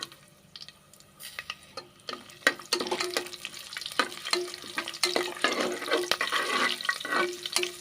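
Green chillies and whole spices such as cinnamon, cloves, cardamom and star anise fry in oil for egg biryani. A soft intermittent sizzle and crackle builds louder over the seconds, with scattered pops and spoon clinks.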